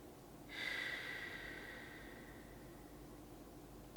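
Slow, steady breathing during a guided meditation, a long soft exhale rising after half a second and trailing off gradually, close and quiet with no talking.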